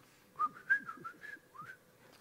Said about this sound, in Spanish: a veces haya usted solo chiflando cantos